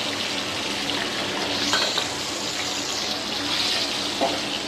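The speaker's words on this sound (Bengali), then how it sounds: "বাকি মাছগুলো আমি এইভাবে ভেজে নিচ্ছি।" Pieces of hilsa fish fry in hot oil, giving a steady, dense sizzling hiss that carries on evenly throughout, close and fairly loud, with faint clinks from handling.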